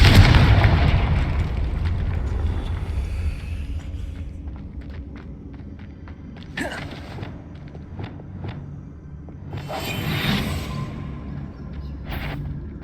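A Confringo fire spell in Hogwarts Legacy sets off a loud booming blast at the start, followed by scattered sharp pops, impacts and footstep-like thuds, with another burst of crackling energy near the end.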